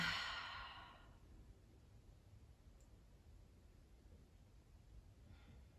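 A single deep exhale through the nose during a yoga breathing exercise, a soft breathy rush at the start that fades within a second into quiet room hiss.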